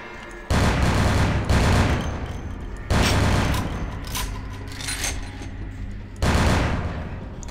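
Gun firing in the game Vampire: The Masquerade – Bloodlines: several loud, rapid bursts of gunfire, each with a ringing decay, separated by short pauses.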